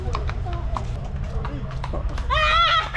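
A horse in Baguio clip-clops with several hoof strikes amid crowd chatter, then gives a short whinny near the end while people talk nearby.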